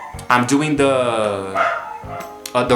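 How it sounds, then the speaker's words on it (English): A dog barks and yelps loudly and close by in a run of drawn-out, pitch-shifting harmonic barks with short pauses between bursts. "Now the dog won't shut up."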